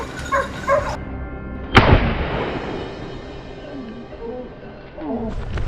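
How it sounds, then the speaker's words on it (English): Hunting dogs bark furiously outdoors at a wild boar hunt, with sharp yelps and barks near and far, one loud crack standing out, and a voice speaking in between. "our dogs barked furiously"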